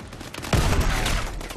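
A single heavy shotgun blast fires in Call of Duty: Advanced Warfare, loud and close, with a booming decay amid ongoing game noise.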